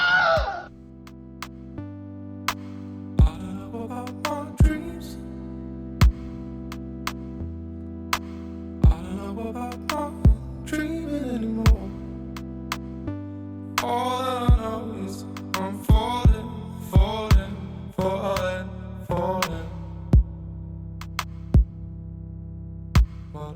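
A song plays, with sustained electronic tones and a low synth drone under sharp, sparse percussive hits and wavering vocal lines that swell toward the middle.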